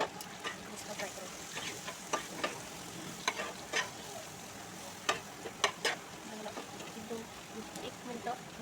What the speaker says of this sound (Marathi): एक मिनटं थोडंसं तेल सुटेपर्यंत फ्राय करून घेते.